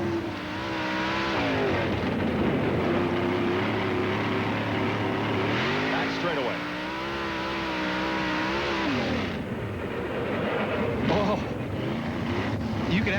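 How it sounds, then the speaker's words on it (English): Race car engine at the 1994 Canyon round of the Slick 50 World Series, droning loudly and close with shifting pitch, then dropping off abruptly as the driver brakes hard and the motor briefly cuts out before picking up again. "you could hear him actually kill the motor there for a second"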